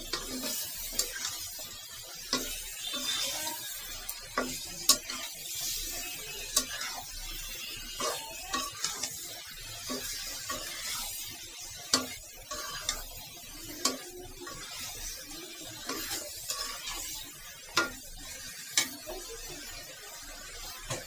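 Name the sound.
stirring mixed vegetables with spices in a pan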